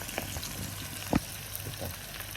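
Pork frying and browning in a pan, a steady close sizzle with a few sharp pops and stirring clatters, no talking.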